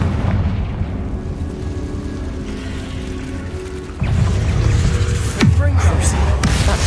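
A Confringo fire spell goes off in Hogwarts Legacy as a loud, deep boom partway through, followed soon after by a second sharp blast with a rumbling tail, over continuous game ambience.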